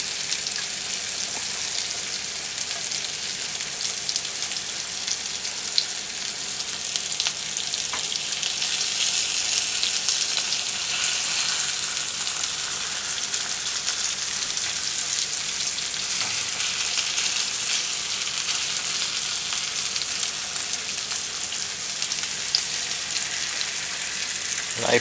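Salmon frying in butter in a small frying pan, a loud, dense, unbroken sizzle that holds steady throughout.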